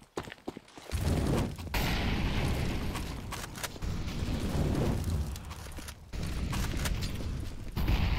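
Grenade blasts and gunfire during a Counter-Strike match between Valiance and HAVU come as repeated heavy booms and rumbling bursts with brief gaps, loud and close.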